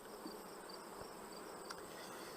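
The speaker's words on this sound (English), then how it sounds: "These are the new bees." A colony of freshly emerged honeybees at a hive, the product of a queen raised from a graft, hums in a steady, dense buzz close by with no pauses.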